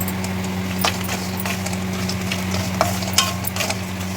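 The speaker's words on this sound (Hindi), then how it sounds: "काजू बादाम को एक साथ ही फ्राई कर दे रहे हैं धीमे आंच पर" Cashews and almonds frying together in ghee in a wok over low heat, a soft crackle with occasional light stirring scrapes above a constant low hum.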